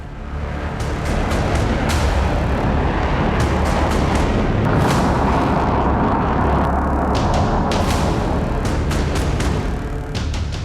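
A huge, sustained roar of a US nuclear test explosion rumbles continuously at full loudness, dense low-end thunder with crackling bursts layered over it, no voices.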